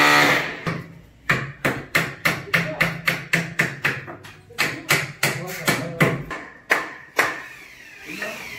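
Hammer taps ring out while a Xingfa aluminium door frame is installed: about twenty sharp, close strikes in an uneven rhythm, some in quick runs and others spaced by short pauses.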